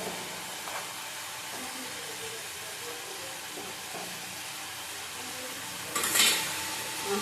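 Katla fish curry simmering in a pan makes a steady, soft bubbling sizzle throughout, with a brief brighter hiss of steam or stirring near the end.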